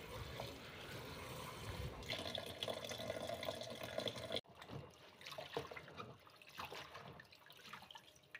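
Steady running water splashes continuously as herbs for pansit-pansitan tea are washed, with a brief break midway before a lighter, more broken trickle and splatter resumes.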